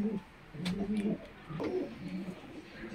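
Pigeons at a rooftop loft give soft, low cooing calls in a few short bursts, fairly close and otherwise quiet, with no talking.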